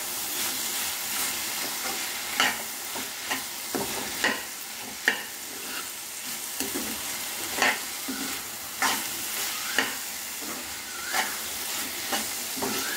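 A curry with coriander powder is stirred in a pan, with a soft steady sizzle and hiss under repeated scraping strokes every second or so.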